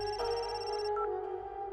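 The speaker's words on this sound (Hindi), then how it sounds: "सभा का फोन आ रहा है।" A mobile phone rings with an incoming call, a bright electronic ringtone of sustained melodic tones that shift pitch partway, clear and steady with no voices.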